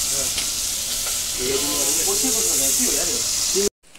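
Chicken frying in hot oil on a stovetop, a steady broad sizzle with scraping stirs, with a voice speaking over it before a brief cut near the end.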